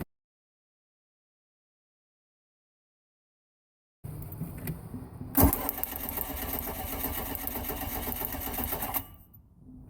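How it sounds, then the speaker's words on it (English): A 4-cylinder MerCruiser boat engine cranks over with the distributor wire pulled, the starter churning in a fast steady whir for several seconds after silence, with one sharp clunk early on, before stopping. "go crank the engine over a few times"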